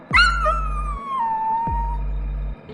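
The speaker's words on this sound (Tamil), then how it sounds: "மீண்டும் சென்னாய் ஊளையிடும் ஓசை கேட்டது." Dhole, the Indian wild dog, howling as a story sound effect: two long drawn-out wavering howls separated by a short pause, clear and fairly close over a low steady hum.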